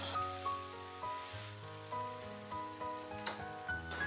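Shredded taro is stir-fried in a wok with salt and five-spice over the lowest heat. A soft, steady sizzle is heard faintly beneath louder tonal music, with light stirring bursts throughout.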